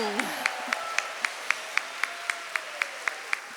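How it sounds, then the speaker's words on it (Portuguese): At a church event, a gathering claps in slow, even rhythmic unison, about a dozen sharp beats spaced steadily over a faint background. "Vamos aplaudir este exército forte na oração."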